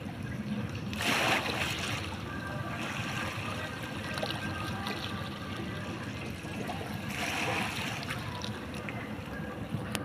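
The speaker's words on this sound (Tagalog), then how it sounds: "maraming nagagala na mga bangkang timotor po" Motor boats on the sea off Batangas City, heard as a faint, steady engine drone with water splashing and two brief louder surges of spray.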